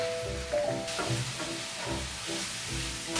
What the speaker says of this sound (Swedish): Så jag börjar med att steka ihop lite champinjoner och paprika.